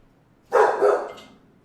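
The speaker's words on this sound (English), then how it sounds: "Sorry about the dog barking." A dog barks a couple of times nearby, a short burst of two close barks with a brief tail, heard alone without talk over it.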